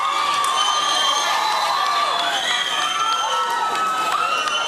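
Exuberant crowd cheering and shouting at the Vocal Fusion Season 7 singing competition final, a dense, continuous roar of many voices with high whoops and children's shouts, loud and sustained throughout.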